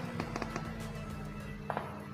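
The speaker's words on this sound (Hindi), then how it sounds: "गोली मारो गोली मारो गोली चला गोली चला" Sharp gunshots fired in a night-time video game, a few scattered cracks, some in quick pairs, over a steady low background rumble.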